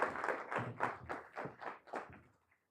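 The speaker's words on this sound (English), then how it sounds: "we'll have another round of applause for our speaker" A small lecture audience applauds a speaker with a faint, loose run of hand claps that tapers off and fades out within about three seconds.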